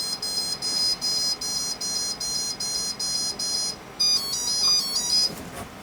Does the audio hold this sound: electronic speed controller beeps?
yes